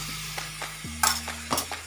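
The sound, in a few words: stirring stuffed okra in pan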